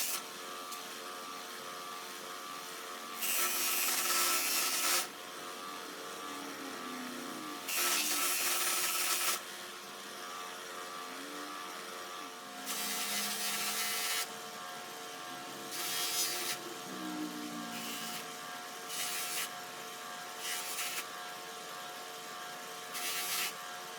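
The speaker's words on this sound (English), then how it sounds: "now I'm going to start the polishing process for the nut and bolt" Polishing a pliers nut and bolt, heard as short bursts of loud buffing and rubbing, some lasting about two seconds and others briefer, over a quiet steady hum with no speech.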